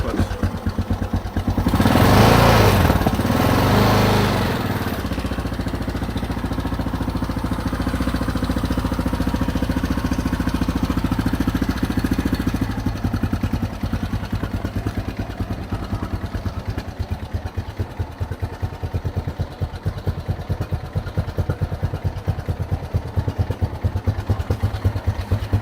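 A 1991 Yamaha XTZ 660 3YF motorcycle with a Marving exhaust idles cold at 0°C with revs sitting low, a loud close steady thumping burble after a brief louder blip at the start.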